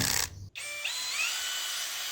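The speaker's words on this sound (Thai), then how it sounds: "สว่านกระแทกตัวค่อนข้างใหญ่ มีแหวนปรับโหมดแยกออกจากคลัตช์" A large PUMA cordless brushless impact drill with two gears spins up to a steady high-pitched whine after a short gap. It runs close and alone, with no talk.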